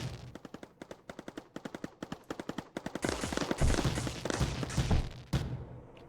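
Turrets fire in the Mindustry video game, starting as rapid, evenly spaced automatic shots, then building into a denser, louder barrage of overlapping gunfire before tapering off.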